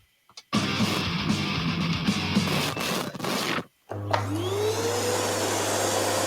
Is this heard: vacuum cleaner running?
yes